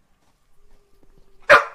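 A dog gives a single loud, close bark after a stretch of near silence broken only by faint soft taps and a thin hum.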